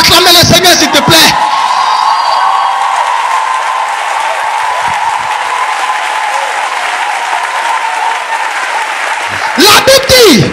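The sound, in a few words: congregation applauding and cheering to acclaim the Lord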